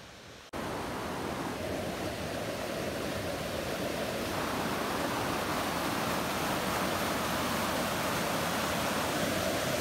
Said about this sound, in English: I think I hear waterfalls ahead